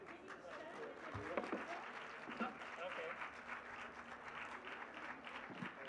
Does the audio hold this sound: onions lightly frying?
no